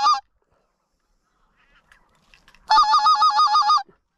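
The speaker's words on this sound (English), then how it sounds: "Two geese, guys." Two geese honk while flying low overhead during an Alberta waterfowl hunt, a short call at first, a pause, then a longer run of loud, rapid honks close by.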